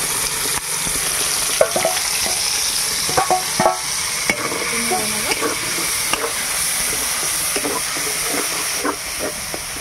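Spice paste hitting hot oil in a pan for a chicken dish, a loud close sizzle and hiss with repeated clicking stir strokes throughout.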